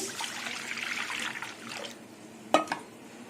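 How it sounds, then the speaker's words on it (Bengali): Water pours into a wok (kadai) while soybean curry is being cooked, a short splashing stream for about two seconds. A couple of sharp clinks from the pan follow. "কড়াইতে আবার জল দেবো"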